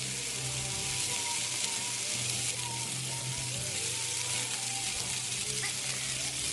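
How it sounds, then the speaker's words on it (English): Country style ribs sear and sizzle in a hot pan, getting blackened before going into a 500-degree oven; a steady, dense frying hiss runs throughout with a low background hum. "we'll put our ribs in there and we'll start to blacken it. Get a nice char on it"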